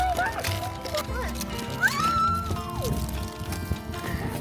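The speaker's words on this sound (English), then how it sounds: "It's the miniature horse." A miniature white horse on a family farm lets out a high, wavering neigh partway through, close by, while people talk around it.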